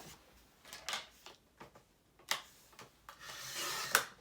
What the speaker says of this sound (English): I'll just have to do a little trimming to get this straight.